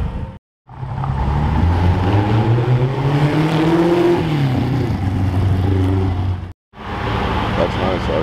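An RS America car roars past at a car event's leaving session. Its engine note rises and then falls as it sweeps by loud and close, with people talking nearby.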